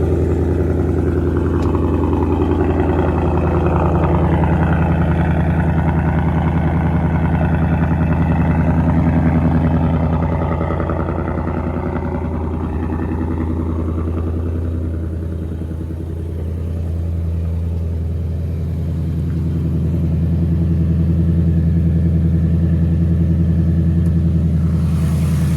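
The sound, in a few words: 2024 Ford Mustang S650 engine idling after cold start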